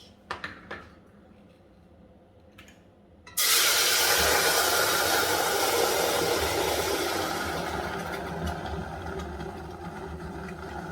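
Blended pepper and garlic hit hot olive oil in a pan and burst into a loud, sudden sizzle. The steady hiss then eases a little. A few light clinks come before it, and no one speaks.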